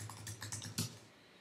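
Someone types on a computer keyboard in a short, quiet burst of uneven key clicks, close by and with no talking.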